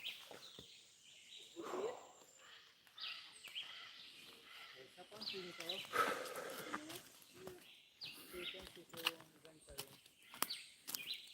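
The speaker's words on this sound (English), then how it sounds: "Look, birds" Birds chirp and tweet intermittently outdoors on a sunny, green hillside hike in Jamaica, short high calls scattered over a soft ambient background.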